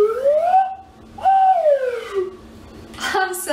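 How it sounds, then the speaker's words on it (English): A homemade slide whistle with a foam plunger is played, giving gliding tones that sweep upward in pitch and then fall back, repeated twice, close and clear, with a brief sharper squeak near the end. "now we'll test if this works as a slide whistle"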